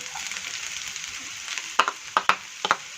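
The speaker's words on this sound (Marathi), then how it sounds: "आता एक 2 मिनिटानंतर मी हे चिरलेले मशरूमचे दांडे याच्यात घालते।" Chopped mushroom stems fry in a pan with a steady, even sizzle, joined near the end by a few sharp clicks of a utensil against the pan.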